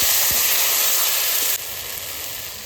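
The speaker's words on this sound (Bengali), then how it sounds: "এবার পেস্ট করা মশলাটা দিয়ে দেবো এর মধ্যে আছে আদা রসুন শুকনো লঙ্কা পেস্ট জিরে সমস্ত মশলা দেওয়া হচ্ছে" A paste of ginger, garlic, dried chilli and cumin spices in a pan makes a loud, steady hissing sizzle close by, easing slightly partway through.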